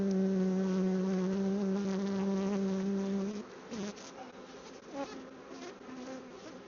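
Honey bees buzzing close around an open hive, a loud dense drone that thins after a few seconds into scattered nearer buzzes passing by.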